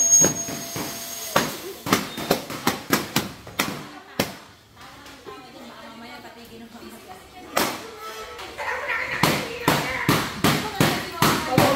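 Sharp New Year's firecracker bangs pop in rapid irregular bursts, loud and close, with a quieter stretch in the middle and voices talking between the blasts.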